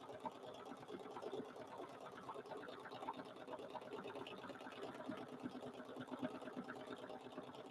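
Sewing machine running steadily and continuously as a small quilted mug rug is turned under the needle, stitched with variegated thread; a dense, even mechanical whir with rapid stitch ticks and no talking.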